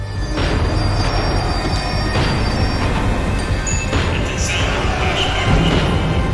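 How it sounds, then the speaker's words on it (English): A tram slowing down in the video game Max Payne 3, rumbling rail noise with metallic clanks and faint wheel squeals, steady and fairly loud throughout. "The tram was slowing down, and I'd only just gotten on board."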